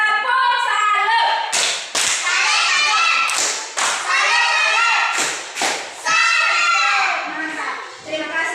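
Schoolchildren in a classroom perform a rhythmic group salute clap, a patterned series of loud, close thumps and claps mixed with chanting children's voices.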